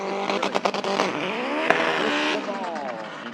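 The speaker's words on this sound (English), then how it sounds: "John Pereira coming up now in his Honda Civic in the left." A 1999 Honda Civic drag car, a 2.4-litre making 450 horsepower, launches at a no-prep drag strip, engine revving hard with rising and falling harmonic sweeps and a sharp crack midway, loud and close with a voice over it.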